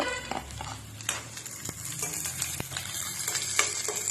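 Ginger and garlic stir-frying in a pan for a Kerala prawn curry, with a steady close sizzle broken by scraping stirs and light clinks of a spoon against the pan.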